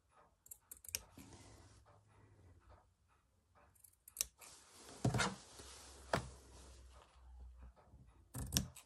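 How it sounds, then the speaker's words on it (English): Scissors snip embroidery threads on fabric in a handful of quiet, close, crisp cuts with short pauses between them. "Just going to snip some of this."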